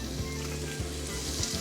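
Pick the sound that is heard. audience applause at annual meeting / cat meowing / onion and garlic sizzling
onion and garlic sizzling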